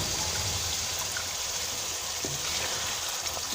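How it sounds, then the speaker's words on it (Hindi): Water is poured into a pan of simmering chicken liver and gizzard curry, giving a steady trickling splash with a faint sizzle throughout, close and continuous. "अब इसमें हम 2 घूंट अपना पानी फिर से ऐड करेंगे।"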